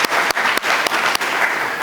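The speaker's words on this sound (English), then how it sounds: "Another round of applause for Mr." A round of applause for Mr. Omanga at a Homeboyz PLC stock market listing event, loud, dense clapping from a crowd, close and continuous with brief dips, no speech over it.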